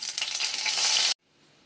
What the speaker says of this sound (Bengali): আমি রাঁধুনি আর মেথি ফোড়ন দিচ্ছি।